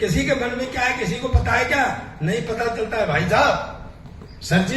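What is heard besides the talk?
No everyday noises stand out.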